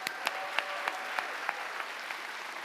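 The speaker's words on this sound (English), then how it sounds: "So how about we give them one more round of applause?" Audience applause for youth dance performers at an APA Heritage Awards ceremony: fairly quiet, loose clapping with a few sharper individual claps, thinning out toward the end.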